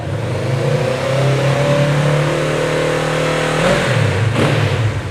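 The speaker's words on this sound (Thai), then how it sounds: "รอบเครื่องยนต์นิ่งกับตาเร่งดีครับไม่มีสะดุดเลยนะฮะ" A 2020 Kawasaki Z650 motorcycle with a genuine Akrapovic full-system exhaust revs steadily close up, its loud harmonic engine note holding smooth and even before the throttle drops off near the end.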